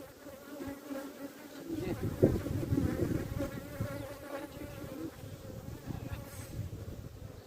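Honey bees hum and buzz around an open beehive during hive merging, a dense steady drone that swells louder after the first moments and stays close.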